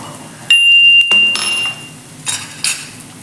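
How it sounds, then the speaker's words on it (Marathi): Ginger, garlic and coriander stems are pounded in a small mortar with a few sharp metallic clinks and knocks, close and fairly loud, spaced irregularly with quiet gaps between strikes. "या छोट्या खलबत्त्यामध्ये"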